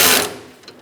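A bolt on a Honda CR-V starter being tightened, a short loud burst of rapid ratcheting that fades quickly into quiet with a faint click.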